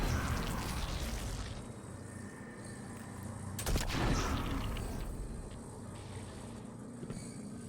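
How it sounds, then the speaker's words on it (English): A darkness barrier object shot in the video game Destiny 2: a short burst of gunfire rises out of a dense, rumbling game ambience, then fades back into it. "here's this thing to shoot. It's like that thing that brought down the barrier earlier. A little darkness thingy. It's kind of gross looking. Let's shoot it."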